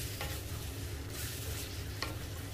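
Chicken with ground cashew nuts is stirred in a hot pan for kanthari chicken. A soft, even sizzle runs throughout, with a couple of sharper spatula scrapes near the start and toward the end.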